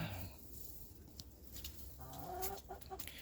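A bantam barred rock hen clucking softly in a coop, a few short low clucks and rustling nearby, faint with no talk.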